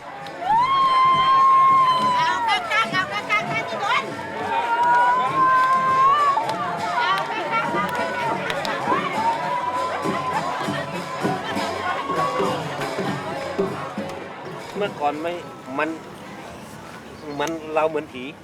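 Villagers crowd along a street in a Thai spirit-chasing procession, with a steady dense din of many voices, shouts and chatter. Talk and cries mix with it throughout, and a high sustained tone rings out at times.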